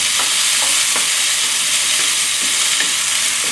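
Mixed vegetables and almonds stir-fry in a hot pan with a constant close sizzle, broken by occasional light scrapes and taps as the food is tossed; no one speaks.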